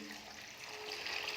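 Water poured into a cooking pot of fried onions and cumin, a steady splashing pour heard close and alone for its full length.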